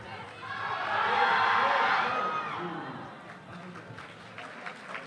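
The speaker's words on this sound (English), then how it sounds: "if you heard the yelling of the crowd" A crowd at the CPU Nationals 2020 powerlifting competition yells and cheers in a loud swell that peaks, then eases into scattered shouts, with a commentator talking over it.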